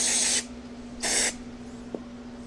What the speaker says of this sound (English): A little bit of shop grade Windex. You know, AKA it's brake cleaner.